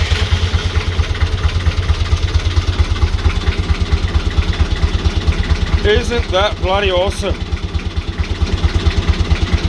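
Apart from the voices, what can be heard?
diesel engine starting and idling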